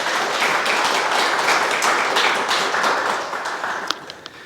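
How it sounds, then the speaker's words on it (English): Audience applause for a judge at the Miss Samoa NSW 2026 pre-pageant interviews, a dense, steady wash of clapping from a crowd that holds for about four seconds, then thins into a few scattered last claps. "please give a round of applause for Judge number 2, Tamara Apaola."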